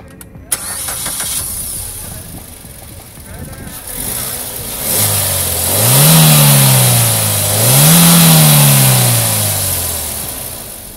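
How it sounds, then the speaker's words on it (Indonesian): A Suzuki SX4 S-Cross facelift with a 1500cc engine and manual gearbox cranks and starts up, then settles to idle and gets two rising revs, heard nearby with a high hiss over the rumble, and no talking. "kita pengen denger dulu suara mesin ini kayak apa"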